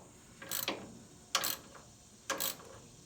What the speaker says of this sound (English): put this in the frame and ratchet it in and get it to cut threads into the steel